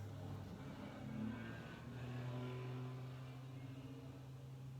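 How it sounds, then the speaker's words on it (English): Steady traffic on a street, cars rolling past in a continuous low hum with a gentle swell in the middle, fairly distant and moderate in level. "you can hear the cars and stuff going by"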